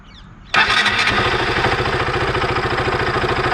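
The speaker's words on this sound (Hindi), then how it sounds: "ये बाइक स्टार्ट कर ली मैंने" A KTM motorcycle engine cranks and catches with a sudden loud roar, then settles into a steady, rapid idle thrum close by.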